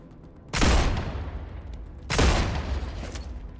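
Two heavy gunfire bursts in the video game StarRupture, each a loud booming blast that trails off into a decaying echo, spaced about a second and a half apart with no talk over them.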